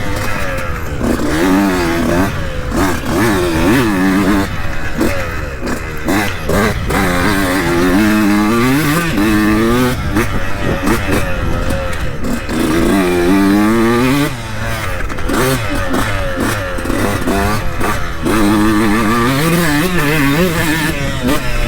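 A 2002 CR125 two-stroke motorcycle engine revs loud and close on a track, bogging at times, then climbing and dropping in pitch as it pulls through the power band, with constant engine noise throughout.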